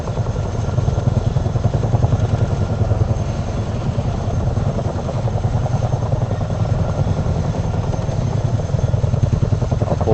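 CH-47 Chinook tandem-rotor helicopter in flight, a loud steady rotor thump and engine roar filling the whole stretch, heard from on board at low altitude.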